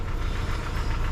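A Nissan Micra K11 with an aftermarket exhaust and induction kit sits idling to warm up, giving a steady, close, rumbling engine drone with no talk over it.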